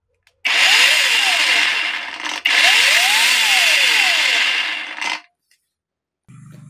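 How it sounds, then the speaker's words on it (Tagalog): A cordless rechargeable angle grinder runs loud and close in two bursts with a short break between them, a steady high whine with a slight rise and fall in pitch, before it cuts off. "Rechargeable grinder."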